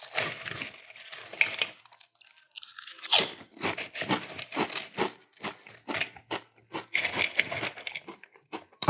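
Doritos and other snack chips crunched between teeth, loud close-up bites and brittle chewing crackles in quick irregular bursts with brief pauses, with no voices.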